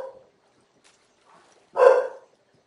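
A single short dog bark sounds in a quiet room, one sharp burst preceded by faint rustling.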